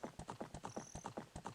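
Rhythmic clip-clop of horse hooves in Ocarina of Time HD, a steady galloping beat of about ten evenly spaced thuds, close and clear, alone with a faint chime-like tone briefly above it.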